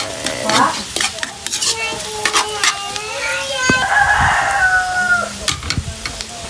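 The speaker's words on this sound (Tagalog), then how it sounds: "Then, lagyan na natin yung bawang." Garlic sizzles and gets stirred in a hot pan while making ginataang langka with tinapa, with irregular clattering utensil strokes over a steady frying hiss and a voice talking over it.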